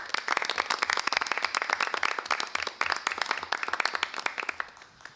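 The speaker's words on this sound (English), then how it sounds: "stand and we give you a round of applause for your work" An audience at an evening gathering gives a round of applause for teachers: dense, steady clapping from many hands that fills the whole stretch and tapers slightly at the end.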